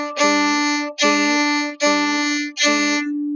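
Solo violin playing four bowed notes of equal length in a steady rhythm, close and clear, with brief gaps between strokes and no talking.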